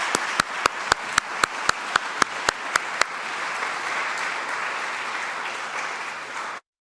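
Audience applause welcoming performers at an organ concert: a dense wash of clapping that holds steady for about six seconds, marked by a string of sharp, regularly spaced claps at the start, then cutting off abruptly.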